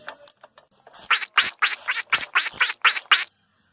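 A ratchet loosens a 10mm cable fastener on a John Deere X Series lawn tractor, giving a quick run of about eight sharp, close ratcheting bursts in steady rhythm, with no talk.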